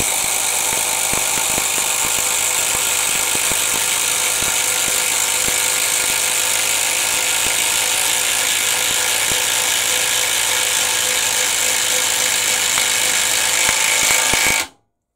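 Two impact drivers, a Bosch GDR 18V-EC brushless and a Makita, hammer screws into wood at the same time, making a loud, continuous, high-pitched rattling whine for around fourteen seconds before both cut out abruptly.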